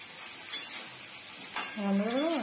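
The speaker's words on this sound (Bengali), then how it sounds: "এবার এঁচড়টা কষাতে হবে" A spatula scrapes and stirs jackfruit in a pan twice, with a faint sizzle, and a voice speaks briefly at the end.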